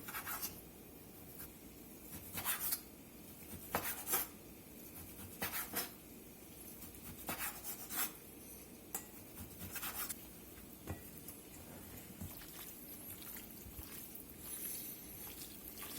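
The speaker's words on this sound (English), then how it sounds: "cut these into some pretty thin little strips across the grain" A knife slices beef into thin strips across the grain, producing soft, regularly spaced cutting taps and scrapes on a board, quiet and close, with no talking.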